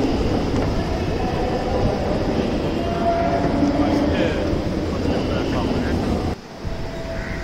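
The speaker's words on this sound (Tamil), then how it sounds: "கீழே வந்து ரயில்வே ஸ்டேஷன், அதாவது லோக்கல் ட்ரெயின்லாம் போயிட்டுருக்கு." A local train runs past a busy railway station platform, giving a loud, steady rumble and clatter throughout with crowd noise mixed in, easing briefly near the end.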